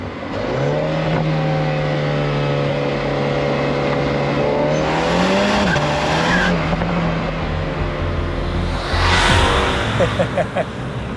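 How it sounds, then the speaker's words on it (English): A MINI JCW Convertible accelerating hard with front wheel spin and torque steer, the turbocharged engine note climbing steadily under rising revs before a brief tire squeal and gear change near the end, loud and close. "you get front wheel spin and a ridiculous amount of torque steer"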